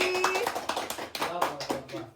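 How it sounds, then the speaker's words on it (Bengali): A small child claps hands a few times in quick, uneven taps, close by, while an adult voice talks over the clapping. "হাততালি হাততালি হাততালি হাততালি"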